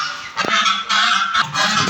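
A flock of domestic ducks quacks loudly and continuously, their harsh honking calls overlapping close by with no pause.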